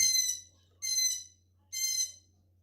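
Three loud, high-pitched calls from a pet sun conure parrot, evenly spaced with short silent gaps between them, over a low steady hum in the background.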